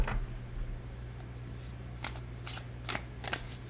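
Tarot cards being shuffled in several quick riffling bursts, close and fairly quiet, over a low steady hum.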